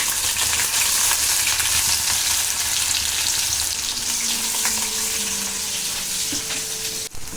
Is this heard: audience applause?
no